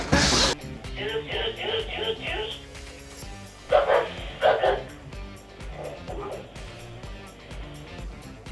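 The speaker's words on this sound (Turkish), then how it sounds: "Köpeği duyuyor musun? Havlıyor." A dog barks several times in a row, then pauses and barks in a few more scattered bursts, fairly close, with people talking around it indoors.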